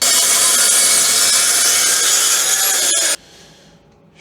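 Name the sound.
sawing off a corner of a wooden table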